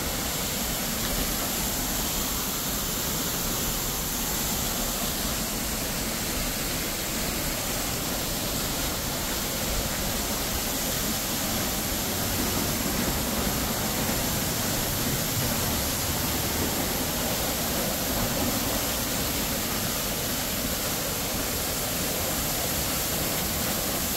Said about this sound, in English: So I'm gonna walk behind this waterfall.